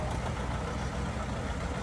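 A John Deere 720 two-cylinder tractor rolls by in a heritage-weekend tractor parade, its engine a steady low rumble that runs without a break under broadband outdoor noise, with no one speaking.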